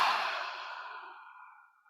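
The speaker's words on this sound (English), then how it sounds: "take a deep inhale." A single long, deep breath drawn in during a seated qigong group healing session, a soft airy rush that starts loud and close and slowly fades over about two seconds, with no talking.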